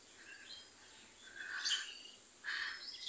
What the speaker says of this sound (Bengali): পাখিদের কিচিরমিচির শব্দ শুনে মনটা ভালো হয়ে যায়।